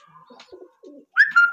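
Healthy pigeons for sale in Nabha, Patiala district, Punjab, coo softly and briefly, with low murmuring notes followed by two louder, clearer calls at close range.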